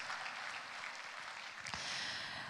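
An audience at the Miss Jewel Cook Islands 2026 pageant claps, producing a dense, steady wash of applause that swells slightly toward the end, somewhat faint and distant.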